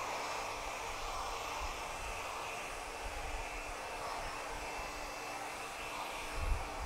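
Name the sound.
hair dryer with diffuser drying men's hair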